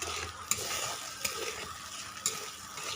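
Spices being stirred into a curd-based pointed gourd curry in a pan, a steady soft sizzle with a few sharp scrapes of the spoon against the pan, close and continuous with no talk.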